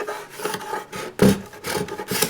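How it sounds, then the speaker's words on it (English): An old finish is hand scraped off a wooden mid-century modern side table, heard as repeated rasping strokes in an uneven rhythm, close and fairly loud, with one heavier scrape in the middle. "This can be done strictly by hand to scrape it and get it all cleaned up"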